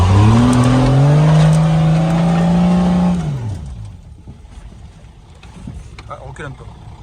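A Patrol's engine revs up in a rising, strained drone for about three seconds, then drops off to a quieter idle and rattling while an instructor's voice talks.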